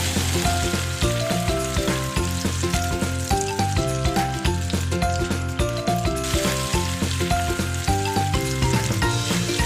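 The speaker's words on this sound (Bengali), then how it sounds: "তেল গরম হয়ে গেলে মাছগুলো ছেড়ে দিচ্ছি" Pieces of rohu fish fry in hot oil with a loud, continuous sizzle and crackle, layered under steady background music.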